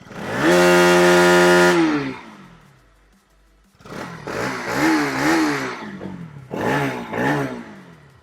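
A Bajaj Pulsar motorcycle engine revs hard and holds at the rev limiter around 10,500 rpm, then drops away and blips several more times with loud, rising throttle bursts.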